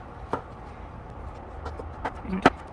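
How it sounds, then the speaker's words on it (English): A knife chops mushroom stems into tiny pieces, making a few sparse, soft knocks on a board against a quiet background, with a sharper chop near the end. "And the stems, you're just gonna cut them into tiny pieces so you can add it to the sausage."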